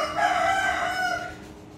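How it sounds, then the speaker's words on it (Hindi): A neighbour's rooster crows once nearby, a long harmonic cock-a-doodle-doo call that rises, holds and fades over under two seconds with no voices. "ये मुर्गे साहब बोल रहे हैं"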